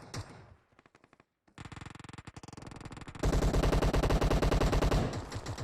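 Rapid automatic gunfire from PUBG Mobile, the battle royale game, first in sparse bursts, then sustained dense bursts growing louder and closer, loud and alone without talk.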